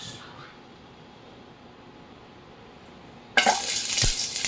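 Onions hit a hot pan for a Filipino ginataang sitaw kalabasa dish, starting abruptly with a loud, bright sizzle after several seconds of quiet room hum, then hissing steadily.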